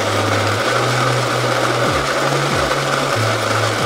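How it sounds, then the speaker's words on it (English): Baratza Encore coffee grinder grinding a small amount of beans, a steady loud motor whine with slight pitch shifts and a few brief dips in pitch, no talk. "I'll put a little bit of beans in here and just kind of show you what it's doing right now in the grinder"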